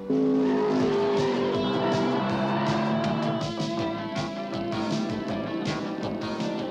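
Cartoon race cars in an animated series roar past at speed with engines droning and tires squealing in sharp bursts, loud and close.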